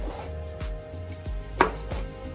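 A knife chops through raw chicken pieces on a cutting board for green Thai curry, with about five distinct thuds spaced at a steady rhythm, close and clear with no talking.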